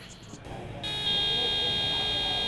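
An RC car receiver gives a sharp electronic beep that starts after a brief lead-in and then holds as a loud, continuous high tone.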